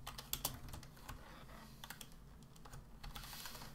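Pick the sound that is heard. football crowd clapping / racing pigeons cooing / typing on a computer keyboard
typing on a computer keyboard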